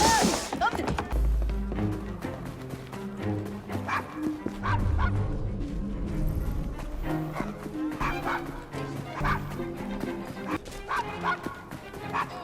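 A dog barks and yips repeatedly in Assassin's Creed Syndicate, set near an old London pub, with game music and voices around the barks.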